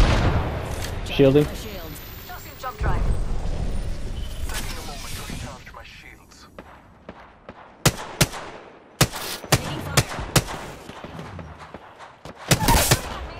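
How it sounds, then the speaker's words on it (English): Gunfire in the battle royale game Apex Legends, with sharp separate shots and short bursts coming near and loud over a rumbling background, mostly in the second half, while voices talk now and then. "Taking fire. Opening fire."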